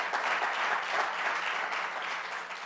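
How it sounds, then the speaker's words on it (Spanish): A church congregation applauds loudly during a Spanish-language service, with dense, continuous clapping throughout and no talking over it. "dale aplauso fuerte al Señor"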